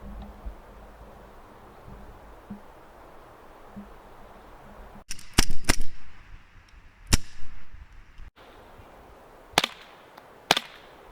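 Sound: airsoft gun shots hitting an armored glass pane

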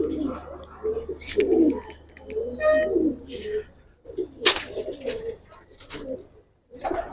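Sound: pigeons cooing in a loft

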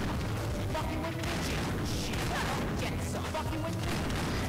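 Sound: gunfire shooting through the floor in video game No More Heroes 2

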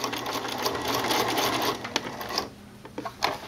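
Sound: sewing machine stitching binding edges

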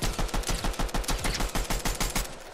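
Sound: gunfire in the Fortnite video game

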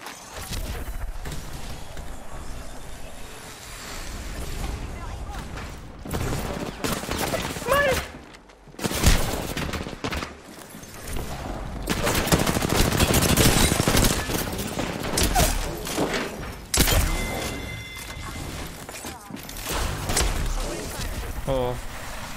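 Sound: gunfire from a gun in a video game

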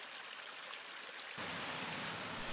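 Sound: river flowing alongside a walking path

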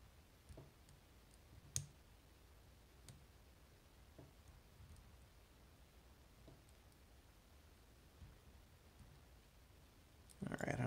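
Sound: clicks while picking an Assa Twin lock

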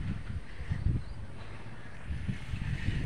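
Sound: strong wind blowing outdoors

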